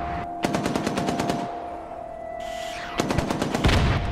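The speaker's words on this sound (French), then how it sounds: "le crépitement des armes à feu déchira le silence de la steppe" Machine guns fire in a steppe ambush on an armoured convoy: rapid, loud automatic bursts close by, pausing, then resuming with a second long volley.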